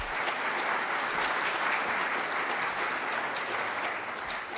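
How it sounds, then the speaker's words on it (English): A board of education meeting audience applauds a teacher being honored, with steady, dense clapping that holds evenly throughout without any voices rising above it. "Let's give her a big round of applause as well."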